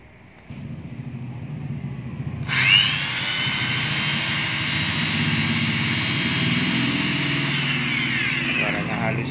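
An NRT Pro electric drill from Korea spins up after a short low hum and then runs at a steady, loud high-pitched whine for several seconds.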